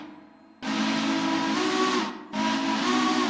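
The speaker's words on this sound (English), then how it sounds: "Got a nice whistle there on it that I added to it" In the Railroader train simulator, the steam whistle of a big 800 class Mikado locomotive blows two long, loud, chord-like blasts with a rushing steam hiss, the pitch shifting within each blast and a brief dip between them.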